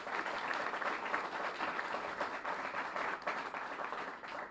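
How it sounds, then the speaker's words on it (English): A press event audience applauds in a steady, dense roar of many hands, sustained and even for over four seconds at a modest distance. "I want to really give him a big round of applause for saying yes."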